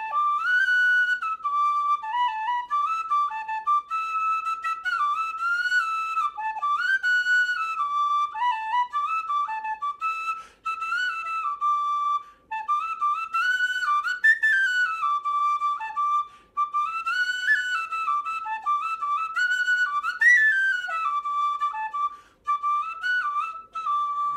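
A tin whistle plays a lively, continuous melody of bright, ornamented notes with short breath pauses, heard close and alone with no talking.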